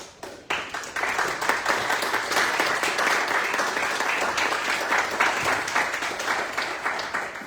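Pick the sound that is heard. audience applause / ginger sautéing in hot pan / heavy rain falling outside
audience applause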